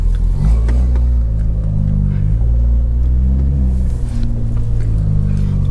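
BMW 340i engine droning steadily at close range while driving cold, a deep continuous rumble with gentle rises in pitch as it pulls away, no voices over it.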